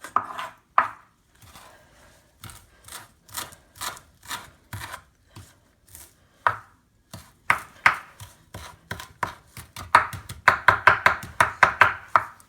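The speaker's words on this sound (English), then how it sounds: "I'm working on my chopping skills, people." A knife chops washed cilantro on a cutting board, with sharp, close taps that start slow and irregular, then quicken into a fast, steady rhythm toward the end.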